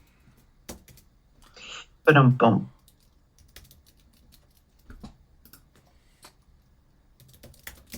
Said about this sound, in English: That's a lot of typing going on over there.